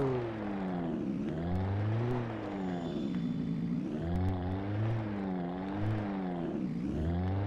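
A car engine in the video game Alan Wake hums steadily at moderate volume, its pitch rising and falling in smooth waves as it revs, heard alone without talk.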